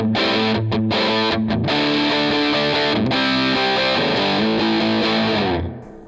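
Electric guitar played through the normal channel of a Vox AC30 amplifier, sustained driven chords with a few brief breaks, loud and close, fading out at the end.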